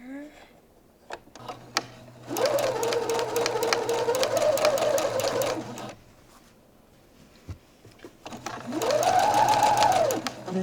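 A sewing machine runs two bursts while sewing the true seam of a French seam on a shirt, a long steady run of about four seconds, then a pause with small clicks, then a second run at close range.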